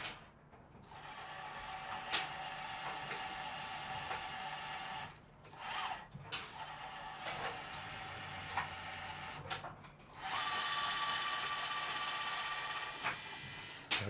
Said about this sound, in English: Last step, got the tapping machine over here.